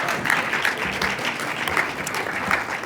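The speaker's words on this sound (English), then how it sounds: "Let's give them another round of applause." Audience applause at an educational equity conference, a steady mass of clapping hands filling the room for about three seconds with no break.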